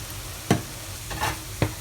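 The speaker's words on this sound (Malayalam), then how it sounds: "നന്നായിട്ടൊന്ന് മിക്സ് ചെയ്യാം." Paneer stirred with tomato ketchup in a pan: a spoon scrapes and clacks against the pan a few times over a low, steady sizzle, with no talk.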